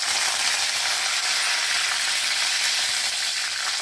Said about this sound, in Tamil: இப்போ கடுகு தாளித்து போட்டுக்கலாம்